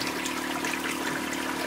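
Water gushes steadily from the outlet of an aquaponic tank. The flow is a dense, continuous rushing heard up close, with no break and no talk.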